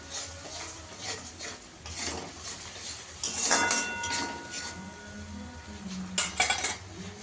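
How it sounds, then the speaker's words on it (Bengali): Masala being stir-fried with two spoons of coriander powder in a pan, heard mostly as metal utensils scraping and clinking against the pan over a faint sizzle, with louder bursts of clatter. "ধনের গুঁড়ো দিয়ে দেবো 2 চামচ। মশলাটা ভালো করে কষিয়ে দেবো।"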